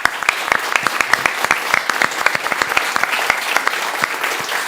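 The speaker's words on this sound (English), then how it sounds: "I'm gonna give a round of applause for Tundra" A live crowd at a Dota 2 esports show in Singapore gives a round of applause for Tundra, with dense, steady clapping and scattered louder claps sustained throughout at close range.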